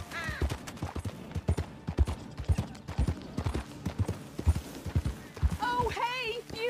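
Steady clip-clop of horse hooves trotting in Red Dead Redemption 2, a rhythmic run of sharp knocks, ending with a brief whinny-like cry over background sound.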